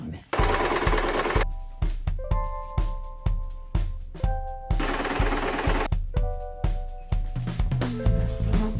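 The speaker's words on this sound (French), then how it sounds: "Je vais coudre pour le fermer." A sewing machine stitches a cushion cover closed in quick rapid bursts, its clattering needle runs starting and stopping with short pauses and faint metallic clinks between, close and fairly quiet.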